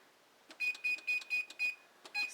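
An oven timer being set while pizza toast goes in to bake, giving a series of short, clear electronic beeps in a fairly even rhythm, close and alone.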